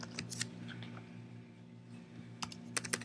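Clicky computer keys being typed in short bursts, a quick flurry near the start and another near the end with a quieter pause between, close up over a steady low hum.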